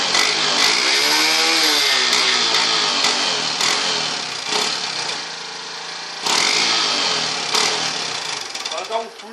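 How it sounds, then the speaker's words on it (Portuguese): A Biker Biz 125 small motorcycle engine starts and revs up and down loudly and close by, with a raspy buzz that rises and falls in repeated pulls between steadier idle stretches. "A gente vai estar ligando aqui a moto, para vocês verem o ronco dela."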